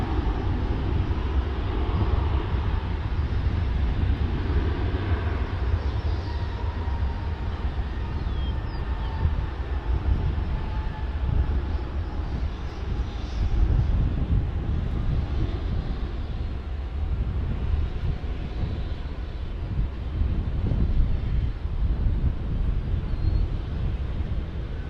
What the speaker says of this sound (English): right on the doorstep is Aero Mexico Connect on the E190